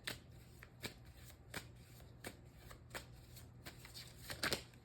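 Tarot cards being shuffled close up, a series of soft riffling flicks and slaps at an uneven rhythm, fairly faint, with a quick flurry near the end.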